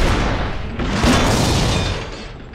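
A tank cannon fires in World of Tanks, a broad booming blast that swells and rolls on through the battle's constant rumble for a couple of seconds.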